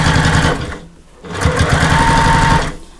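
A sewing machine top-stitches fabric in two close, loud bursts of rapid mechanical whirring and needle clatter, separated by a short pause, with no talking.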